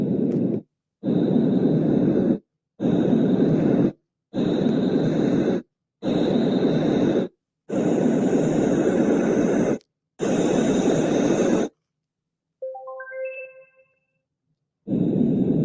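Bursts of steady hissing wave noise from a sleep app repeat in a series of separate segments with short silent gaps, followed by a brief electronic beep sequence.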